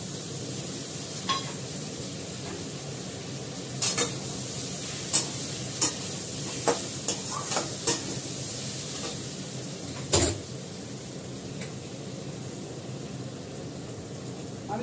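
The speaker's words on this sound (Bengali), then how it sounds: "এবার আমি আদা বাটাটা দেবো" Ginger paste sizzles steadily in a hot frying pan while a spoon stirs it, with scattered scraping clicks against the pan over a constant hiss.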